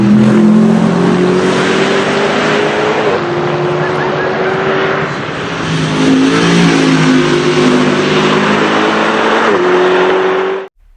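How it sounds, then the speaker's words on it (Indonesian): A Mercedes SLS AMG Black Series engine is revved hard toward an 8000 RPM redline, loud and close, its pitch climbing and shifting over several sustained pulls before cutting off abruptly at the end. "Kalian bisa tuh adu mental dengan mobil ini dengan membiarkan mesinnya meraung sampai"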